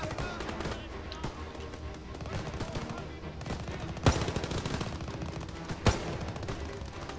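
Call of Duty WW2 gameplay gunfire, with a steady rattle of battle noise broken by two loud, sharp shots a couple of seconds apart, and a voice talking in the background.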